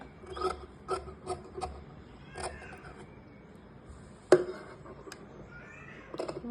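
Scissors cut fabric for a short kurta, giving a quiet series of close snips and crisp cuts, a few in quick succession, then a sharp louder snip and softer rustling.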